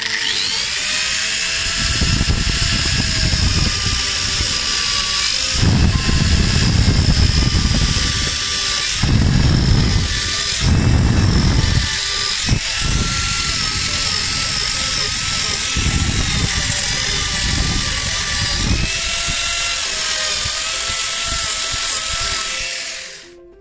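Oscillating multi-tool fitted with a square-tipped quadrangle cutter blade buzzes at a loud, steady high pitch, its tone dipping and surging in bursts as the flat-bottomed cut bites into the workpiece, with no voices.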